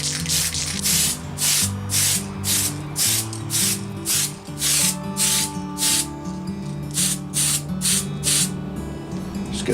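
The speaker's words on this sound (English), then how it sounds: "we're going to have a go with the top coat, the Gunship Grey, straight onto the body with no primer." Repeated short bursts of aerosol spray put a light Gunship Grey top coat straight onto an unprimed Tamiya Super Clodbuster RC body, each hiss lasting about half a second in a steady rhythm over a low background hum.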